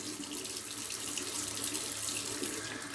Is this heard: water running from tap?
yes